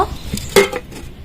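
A metal lid clanks onto a cooking pot of helencha greens boiling in a village kitchen, a few soft clinks followed by one sharper, louder clack, close and alone.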